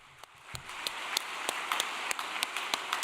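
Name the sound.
audience applause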